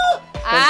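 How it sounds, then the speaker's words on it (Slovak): A rooster and chickens in a henhouse give a loud, close squawk that breaks into a rising, harsh cackling crow, brief and sharp with no talk over it. "Kohút."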